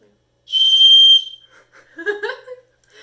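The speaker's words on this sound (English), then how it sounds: "It's a candy whistle." A single shrill candy whistle blast sounds for under a second, followed by a few brief voices and breathy noises.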